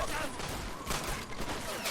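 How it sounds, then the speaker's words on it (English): Machine gun fire in the WWII video game Men of War: Assault, Stalingrad 1943 battle: a dense, continuous roar of rapid gunfire and battle noise, loud and unbroken throughout. "Machine gun over there."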